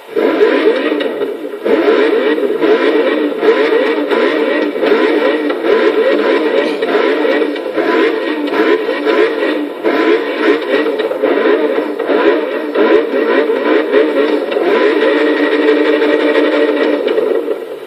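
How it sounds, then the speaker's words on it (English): A continuous, buzzy McLaren P1 engine drone in Forza Motorsport 6 that holds steady and loud throughout, with a slightly muffled, electronic quality. "get ready to hear the roar of this electric V8"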